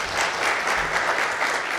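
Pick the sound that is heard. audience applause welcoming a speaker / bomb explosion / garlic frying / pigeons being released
audience applause welcoming a speaker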